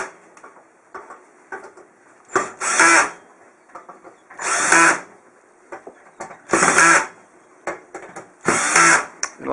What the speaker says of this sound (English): Now that I have all the screws in, I can just tighten them up.